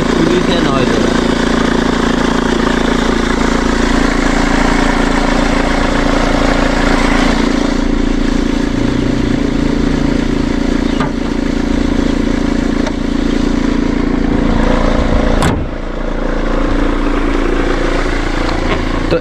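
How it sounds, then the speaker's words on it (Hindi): A car engine idling with a failing idler pulley bearing, producing a steady droning hum and whirring whine that runs continuously and loudly, with a person talking over it. "मेरे को लग रहा है ये पुली से नॉइज हो रहा है।"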